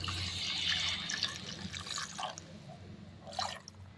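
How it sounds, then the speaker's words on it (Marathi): Hot water poured into a pan of spicy drumstick curry, a soft trickling and splashing pour that swells early, thins out, then returns in a brief second splash near the end, close and clear with no talking. "इथे गरम पाणी घालावे"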